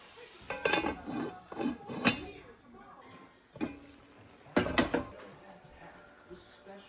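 Pots, pans and utensils clink and scrape in bursts as a meat stew is stirred in a pot for a peanut butter maafe, with several distinct clatters over a quiet kitchen background and no talk.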